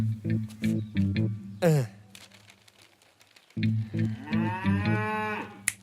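A cow moos loudly twice, long drawn-out lows separated by a pause, close by, with a faint higher call in between.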